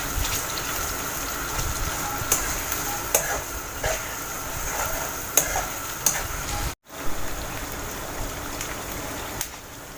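Grated onions frying in a generous amount of oil for Egyptian koshari, a steady sizzle punctuated by regular scrapes and clacks of stirring, with a brief dropout partway through; close and fairly loud, no talking.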